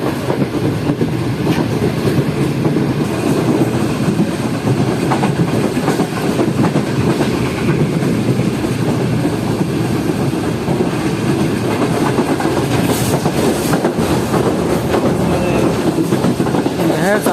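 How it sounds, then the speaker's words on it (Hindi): The Karakoram Express passenger train, running from Karachi to Lahore, rolls along with steady loud rumble and rhythmic clickety-clack of wheels on rail, continuous throughout from inside the moving carriage. "आप इसे इसके नज़ारे इंजॉय कर सकते हैं चलती हुई ट्रेन से।"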